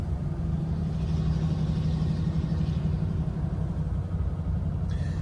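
The flathead V8 engine of a 1948 Ford Super Deluxe Tudor runs with a steady, low, throaty rumble, an unbroken drone from start to finish with no voices over it.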